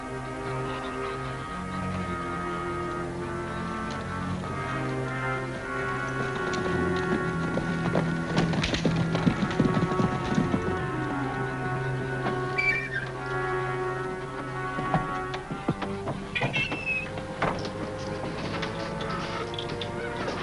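A gray horse's hooves clip-clop in an uneven rhythm over a steady musical backdrop, moderately close, with some clattering accents midway.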